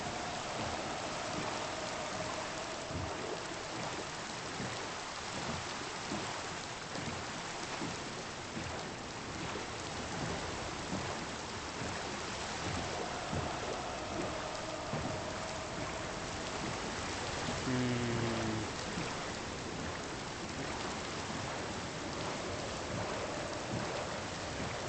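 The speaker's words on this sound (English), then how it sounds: "And it's raining now." Steady, dense rain hiss with a low rumble of thunder in the Minecraft video game, continuous and fairly loud throughout with no talking.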